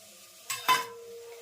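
A utensil stirs dhokla batter in a metal pot in two quick, soft scraping strokes over a quiet background, with no talking.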